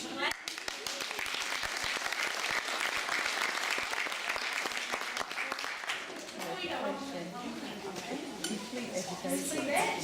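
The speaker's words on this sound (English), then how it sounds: "Give yourselves a huge clap." Audience applause at the close of a health and fitness talk, a loud sustained wash of clapping that fills the room throughout, with faint clinking of dishes and cutlery mixed in.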